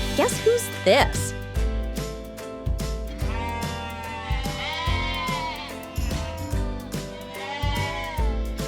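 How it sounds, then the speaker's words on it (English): Sheep bleating in an animal sounds guessing quiz, a few wavering bleats over a steady musical backing, clear and close. "Correct! It's a sheep!"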